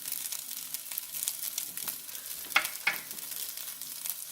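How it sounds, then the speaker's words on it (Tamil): Vegetables with taco seasoning sautéing in a pan, a steady soft sizzle with a few light scrapes of stirring and two brief clinks, fairly quiet and close, no talking. "இது நல்லா வதங்கி வரட்டும்."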